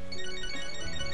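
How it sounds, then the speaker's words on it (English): A mobile phone ringtone sounds inside the video game Catherine: Full Body, a steady bright melodic tone held throughout the short stretch, with no talk over it. "Oh, my phone."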